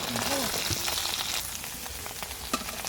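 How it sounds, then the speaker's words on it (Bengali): Pieces of egg paneer sizzle and crackle as they fry lightly in hot oil, a loud, close, steady hiss with scattered pops and a few clinks from a utensil. "এবার আমি পনিরগুলো ঠিক একই রকমভাবে ভেজে নেব"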